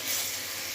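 Pointed gourd (potol) pieces frying in hot oil with spices, a bright steady sizzle and hiss, close and alone.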